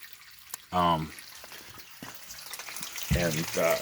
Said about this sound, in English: I just got this valve just barely on, just trying to get some water over the cement here